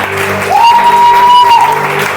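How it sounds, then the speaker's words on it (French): A church congregation cheers and applauds the Lord during a dedication-week service, a sustained wash of clapping and voices with a held sung or shouted note rising above it. "Est-ce que tu peux acclamer le Seigneur?"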